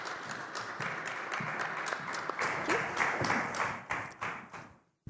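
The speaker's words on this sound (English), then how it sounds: "Let's give them a warm round of applause." A conference audience gives a warm round of applause for panel speakers, steady and moderately loud at first, then thinning into scattered claps that die out at the end.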